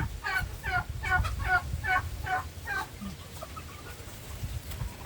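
A domestic turkey's rapid series of clucking calls, close by, followed by quieter scattered clucks over low background noise.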